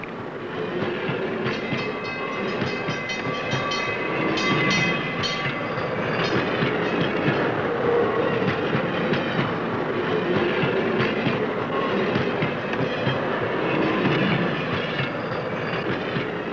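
Freight train hauling nerve gas coffins rolls steadily along the rails, a continuous loud rumble with rhythmic clickety-clack of wheels and faint metallic squeal, no voices.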